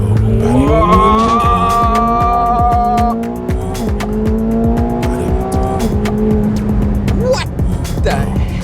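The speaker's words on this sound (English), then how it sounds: "back to the Top Gear track to end the day with some drifting and launch controls" Car drifting on the Top Gear test track, with a loud engine revving and screeching tires sweeping in pitch over several seconds, close by, while a person talks throughout.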